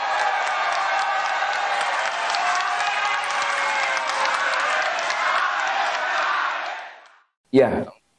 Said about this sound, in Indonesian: Kita berdiri memberikan aplaus kepada mereka berdua.